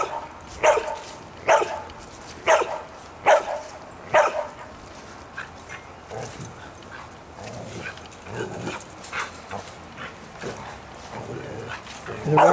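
A dog barks and whimpers at a raccoon up in a tree outdoors, a steady run of sharp, fairly close barks that give way to softer whines, while someone talks.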